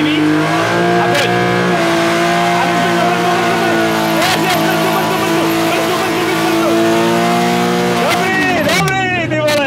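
A drifting car on full throttle, engine screaming at high revs with shifting pitch and tires squealing, loud and close throughout, with a voice briefly audible over it.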